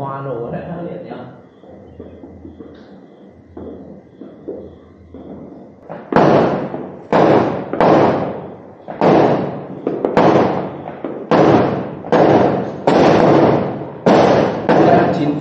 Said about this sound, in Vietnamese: pháo hoa nổ đấy hết